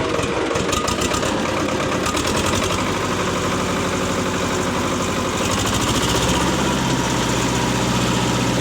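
A Swaraj tractor engine held at high revs near full throttle, a loud, steady, close diesel roar with a rough mechanical chatter that shifts slightly in pitch partway through, no voices.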